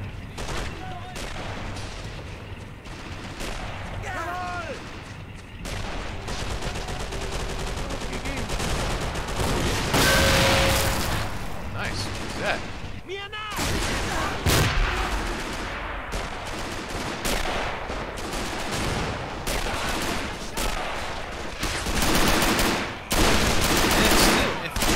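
Battle in the video game Men of War: Assault Squad 2, with sharp rifle shots, rattling automatic bursts and heavier booms going off irregularly, some loud and close, others distant, with faint voices at times.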